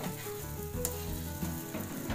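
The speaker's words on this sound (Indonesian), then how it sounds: "Ya, kita aduk-aduk." Pindang patin fish with pineapple sambal sizzles steadily in a pan while it is stirred, with a close, continuous frying crackle and occasional scraping bumps and no voices.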